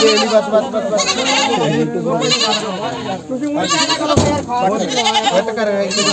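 Barbari goats bleat repeatedly at the Surewala goat market, their wavering cries mixed with loud, close chatter from people around them.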